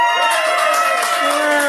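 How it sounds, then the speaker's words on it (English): An audience lets out a loud, sustained cheer with high whoops and voices blending into a steady roar. "Can I get a cheer for motocrossed?"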